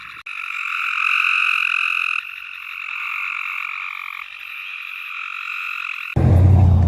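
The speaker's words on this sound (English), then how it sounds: "A barking tree frog, our lifer." A barking tree frog calls in a loud, continuous rasping chorus of rapid pulses, close and steady, ending abruptly with a burst of low rumbling noise as cars pass.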